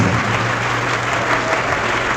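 Crowd applause during a live religious debate between pastors and a Catholic priest, a continuous dense clapping with a low hum beneath, steady and fairly loud throughout.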